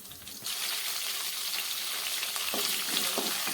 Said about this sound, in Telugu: కరివేపాకు వేసుకొని ఇలా కలుపుకొని టూ మినిట్స్ పచ్చిమిర్చి వేయించుకోండి